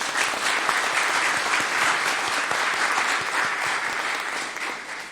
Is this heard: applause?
yes